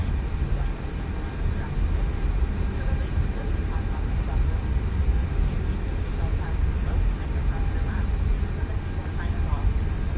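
An Airbus A321 in Microsoft Flight Simulator 2024 produces a loud, steady engine drone, a broad continuous roar with a faint high whine running through it, with no breaks.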